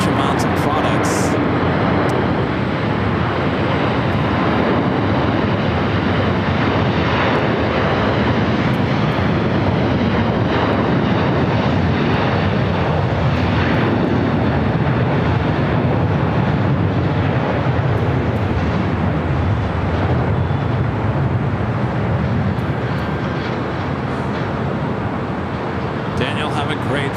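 A jet airliner, flight 740 to Doha at Los Angeles International Airport, roars loudly and continuously for the whole stretch, a dense engine rush with a voice talking over it.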